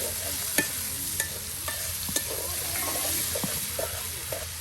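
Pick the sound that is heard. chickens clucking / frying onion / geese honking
frying onion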